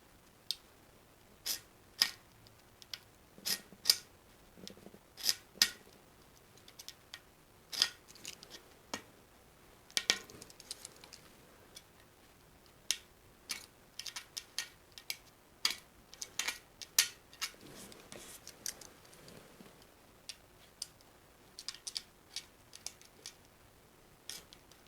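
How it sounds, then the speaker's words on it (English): Sharp, irregular snips and clicks as a hole is cut in a Trek 6500 mountain bike tire, close and fairly quiet, with pauses between cuts. "This is when I cut a hole in my tire."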